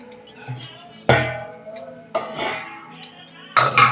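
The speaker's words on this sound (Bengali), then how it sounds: "কুকারটা লাগিয়ে দিলাম" A pressure cooker holding potatoes and water is set onto a kitchen stove, giving three loud metallic clanks and thuds spaced a second or more apart, with faint clinks between them.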